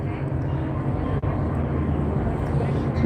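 A helicopter in a video game gives off a steady, loud mechanical drone with a low rumble throughout, and a person talks over it.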